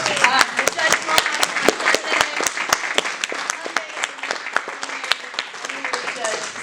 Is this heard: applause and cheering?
yes